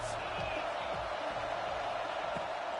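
Stadium crowd in an American football video game, a dense continuous roar of cheering and noise on a third down, steady and loud throughout with low thumps underneath.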